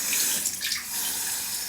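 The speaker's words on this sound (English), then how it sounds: "Leave the water running while I squeegee the face off." A bathroom sink tap runs in a close, steady stream, filling the short stretch with an even watery rush and no voices.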